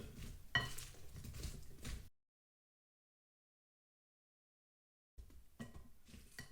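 Potatoes coated in olive oil get stirred in a bowl or pan, giving a couple of seconds of scraping and clattering that drop into silence and then return briefly.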